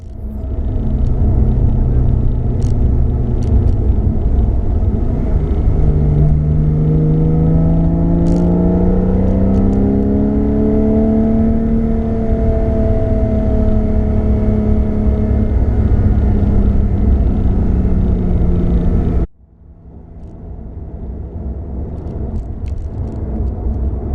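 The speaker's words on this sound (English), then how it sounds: "this will give you a good idea of what the car sounds like, both with the sports exhaust and with it in normal mode" A Porsche 991 Targa 4S with sports exhaust drones loudly and steadily on the road, its engine pitch climbing and falling through the middle before cutting off abruptly, followed by a quieter, lighter engine hum.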